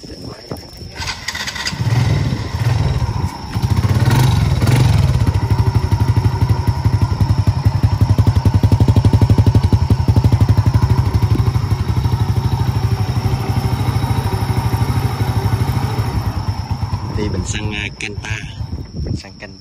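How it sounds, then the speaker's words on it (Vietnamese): A fully restored Honda Wave motorcycle with a black engine block kicks into life and runs at a loud, steady idle up close, with a brief rev early on and someone talking over it. "Để mình test máy ha."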